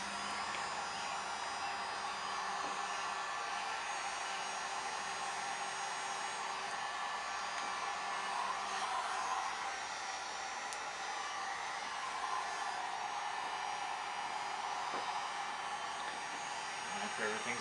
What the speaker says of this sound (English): just give it a once over with the heat to relax everything, make it conform.